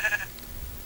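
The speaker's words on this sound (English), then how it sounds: "let me get that last sheep" Brief synthetic sheep bleat from the Paper Minecraft video game, a short high cry at the start followed by low background hum.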